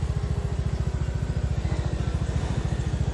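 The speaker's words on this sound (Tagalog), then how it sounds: "Hirap na hirap din ang motor." Motorcycle engine labouring as it climbs a hill in Villa Norte, Alabat, Quezon, a steady rapid low-pitched chugging pulse held throughout, close and fairly loud with no talk.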